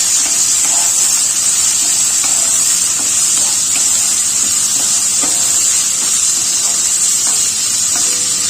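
Banana flower fries lightly in a pan with a loud, steady hiss and sizzle that holds at an even level throughout. Small crackles and pops break through now and then.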